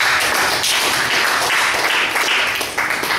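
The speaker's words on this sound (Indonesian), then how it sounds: "Beri tepuk tangan dulu ya" A room full of people at a training session claps in a dense, continuous burst that stays loud and close throughout.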